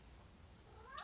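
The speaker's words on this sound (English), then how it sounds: "that was my cat Earl. He meowed" A cat gives a single short meow near the end, faint against a quiet room background.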